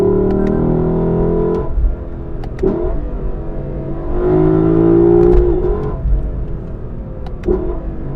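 A 2020 Lexus LC 500's V8 builds under light throttle, its engine note rising and swelling in waves over a steady cabin drone, with a few brief clicks and shifts between pulls.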